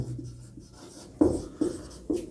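Chalk or marker strokes on a classroom board during a Hindi percentage maths lesson, with four sharp scratchy bursts at the end following a softer start, close and fairly loud, no talking.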